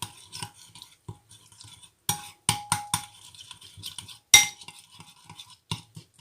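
A utensil stirs mustard vinaigrette in a bowl, made with old-style grainy mustard, giving irregular close clinks and scrapes with a few sharper taps, no talking.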